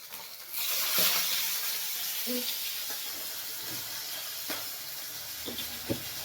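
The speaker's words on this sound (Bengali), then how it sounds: "যা তেল ছিটকাচ্ছে।" Fish frying in hot oil gives a continuous sizzling hiss, with a few soft pops and spatters breaking through and a brief faint voice murmur early on.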